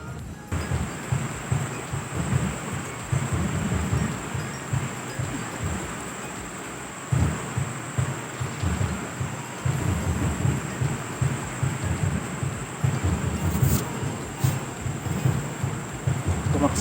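Steady rain in a Philippine fish-market setting, with low rumbling thunder underneath, continuous and fairly loud throughout, with a few brief high clicks near the end.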